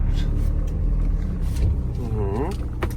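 A 2017 Renault Master 2.3 van with about 180,000 km pulls away, a steady low engine rumble running throughout, with a rising tonal whine near the end; someone talks over it.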